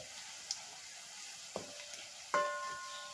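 Garlic fries gently in oil for spiced puffed rice, giving a soft, continuous sizzle. A few sharp spoon taps and clinks against the pan stand out.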